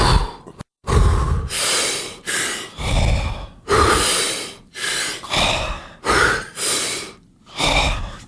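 Deep breathing exercise: a rhythmic run of about nine loud, close inhalations and exhalations, each breath a long airy rush with short pauses between, with no talking.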